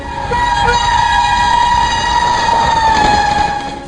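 An Indian Shatabdi Express passenger train runs along the track, a loud steady rumble with a sustained horn tone held throughout, close by and with no talk.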